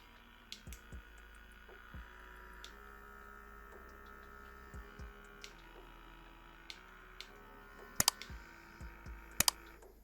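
An electric massager runs with a steady, quiet electrical hum, while sparse small ticks and clicks sound close by and two sharper taps stand out near the end.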